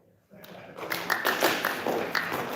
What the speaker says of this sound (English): yes, you can clap just once, though